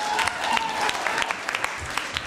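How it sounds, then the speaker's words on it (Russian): Audience applause at a Lea Gottlieb swimwear presentation in Moscow, a steady dense patter of many hands clapping throughout, fairly close and even, with a few sharper individual claps standing out. "Я приглашаю на эту сцену под ваши аплодисменты."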